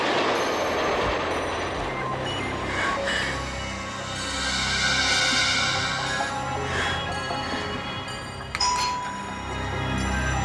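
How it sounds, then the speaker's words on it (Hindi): A train rolls past with steady, rumbling rail noise, squealing wheels and a faint bell-like ding, loud and continuous throughout, used as an eerie sound effect in a horror show. "और वही ट्रेन की आवाज।"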